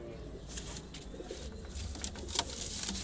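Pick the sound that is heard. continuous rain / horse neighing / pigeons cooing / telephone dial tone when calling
pigeons cooing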